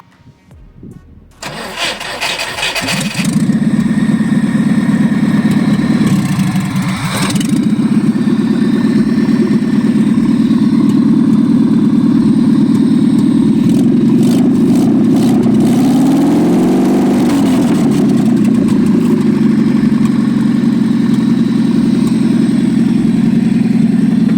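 A GAZ 31029 engine, just repaired after a head gasket replacement, cranks briefly, catches and roars to life, then settles into a steady, loud idle that continues alone without voices.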